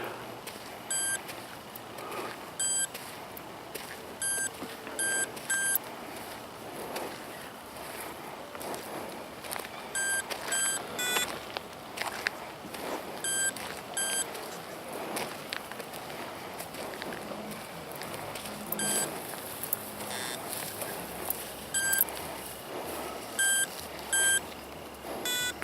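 An Amzdeal Smart Hunter metal detector gives short, high, faint beeps, often in quick pairs, scattered across a long stretch. Scraping and footstep sounds from the sweep over sandy ground run beneath them.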